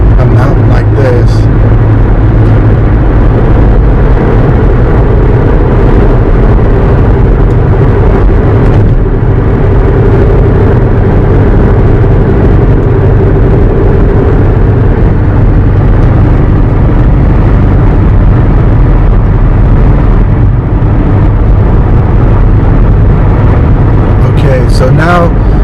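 A Volkswagen Touareg TDI diesel towing up a mountain grade in sixth gear, loud continuous cabin drone of engine and road noise, with a voice talking throughout.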